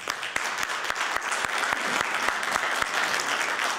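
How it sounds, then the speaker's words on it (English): Steady applause from a seminar audience rolls on without pause, with a few sharp, distinct claps standing out near the front, and no talking over it. "A huge round of applause for all of these."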